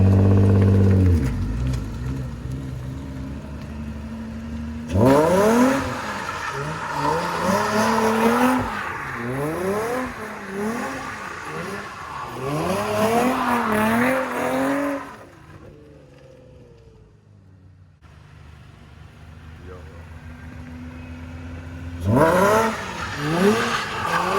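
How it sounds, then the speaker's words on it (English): A BMW E90/E92 335i-type car? "I'm gonna give you some revs of this shit and then start spinning."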